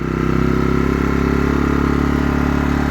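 Engine of a new inverter generator running steadily at close range, a continuous low hum with its speed lifting slightly as eco mode is switched off.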